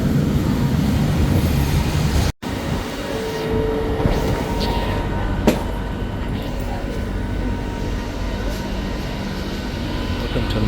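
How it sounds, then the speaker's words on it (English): Steady broadband rumble from a Kuala Lumpur metro train, running continuously at close range with a brief dropout and faint whines and clicks layered on top. "And this is our train right here."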